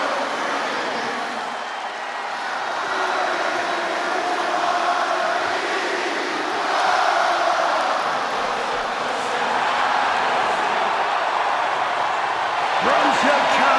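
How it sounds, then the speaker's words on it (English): Crowd ovation in the WWE 2K26 video game for CM Punk before his hometown Chicago crowd, a sustained, roaring wash of cheering that swells and holds for the whole stretch, with a game commentator talking over it. "Just listen to this ovation for the Second City Saint."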